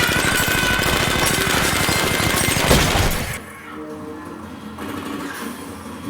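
Sustained automatic machine gun fire from an action movie rattles in a rapid, loud burst for about three seconds, then cuts off to a lower background rumble.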